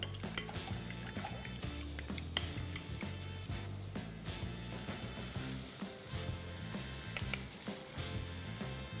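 Beaten eggs seasoned with paprika and turmeric sizzle steadily in a frying pan for a frittata, a continuous close hiss broken by a few sharp clinks of pan and utensil.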